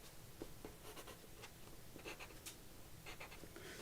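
A pencil marks paper while laying out a handmade mini album journal, making faint, short scratching strokes in quick, uneven bursts close by in a quiet room.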